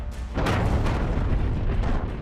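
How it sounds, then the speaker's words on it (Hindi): Explosions from a Ukrainian drone attack on a site in Russia sound as a series of deep, booming blasts with rumbling that carries on between them, loud and continuous. "धमाके ही धमाके।"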